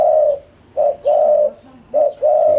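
A spotted dove, a prized captive bird kept for lure use, gives close, loud cooing: a single drawn-out coo, a pause, then grouped soft coos in a repeating phrase, with no voices.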